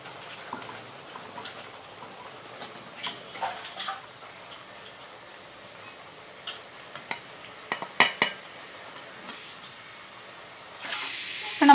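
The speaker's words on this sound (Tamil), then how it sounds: "இப்போ நம்ம வந்து மஷ்ரூம் அள்ளிடலாம்" Fried mushrooms are scooped from an oily pan with a metal spoon, giving sparse close clinks and scrapes over a faint sizzle, then a louder hiss at the end.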